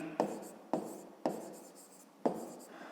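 Chalk or pen strokes writing a multiplication expression for a fifth-grade math exercise by hand, four distinct scratchy bursts each starting sharply and trailing off, close and alone with no talk.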